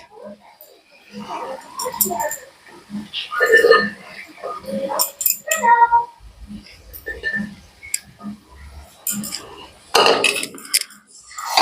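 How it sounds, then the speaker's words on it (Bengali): Boiled peas and spices for ghugni are stirred in a pan, with scattered spoon-against-metal clinks and scrapes while someone talks over them. "মটরগুলো দিয়ে এবার মশলার সাথে ভালো করে নাড়াচাড়া করে কিছুক্ষণের জন্য কষিয়ে নেব মটর আর সমস্ত মশলা।"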